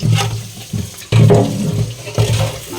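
Rice washed under a running tap, gushing water splashing into a vessel in uneven surges, fairly close and loud, with no talk.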